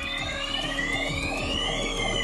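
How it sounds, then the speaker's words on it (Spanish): An electronic alarm rings continuously with a shrill, warbling tone, loud and unbroken throughout. "aunque se activaron las alarmas"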